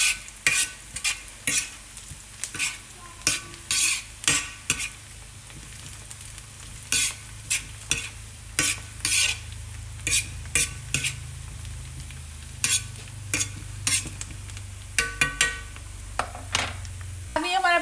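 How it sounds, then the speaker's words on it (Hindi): Onions sizzling as they fry in a pan, with a spoon repeatedly stirring and scraping against the metal in steady clinks over a constant low hiss. "अभी हम इसे और फ्राई करेंगे।"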